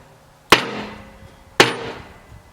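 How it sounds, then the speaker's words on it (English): A Piranha tooth bar being beaten into place on a Kubota B2601 tractor loader with a block of wood: two sharp, loud, close knocks about a second apart, each ringing briefly into a decaying metallic tail. "you're supposed to take a block of wood, and you're supposed to beat that thing back there"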